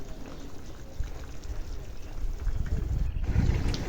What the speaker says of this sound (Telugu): కూర ఉడుగుతుంది ఇంకా ఆల్మోస్ట్ దగ్గర పడిందండి రెడీ అయిపోయింది